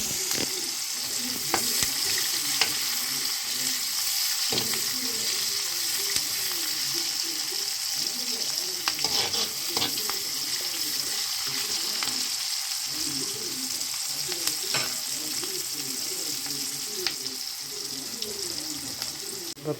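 Onions fry in a pan with a steady, close sizzle and bubbling. Soft scraping from stirring repeats throughout at a constant level.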